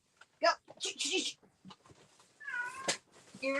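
Pet cats in a home crafting room meow repeatedly in short, close, high-pitched cries, with a longer drawn-out meow near the end, mixed with brief rustles and handling noises.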